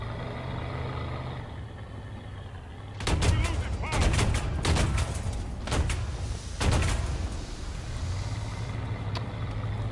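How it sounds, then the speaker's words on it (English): A burst of War Thunder gunfire erupts as a series of loud, sharp cracks over a low engine rumble. The shots come in quick clusters over a few seconds and then give way to steady vehicle drone. "there is a guy up here shooting me"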